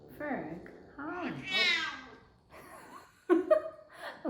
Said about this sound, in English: this is the science cat, Ferg